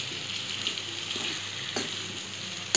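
Raw mango pickle with rock salt cooking in a pan over a low flame, a soft steady sizzle with faint bubbling and a couple of brief stirring scrapes.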